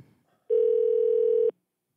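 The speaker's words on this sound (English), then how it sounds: "you hear a phone ring right now" Phone ringing on a live morning radio show: a single steady electronic tone lasting about one second, loud and clear, with no talk over it.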